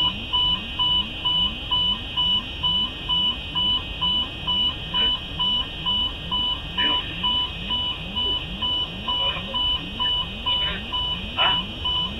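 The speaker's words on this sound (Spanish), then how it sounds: "al mismo tiempo se activa la alarma de pérdida de sustentación" A stall warning alarm sounds in the cockpit of an Aeroperú Flight 603 reconstruction: a steady, rapidly repeating electronic warble runs nonstop and loud, with faint intermittent cockpit noises beneath it.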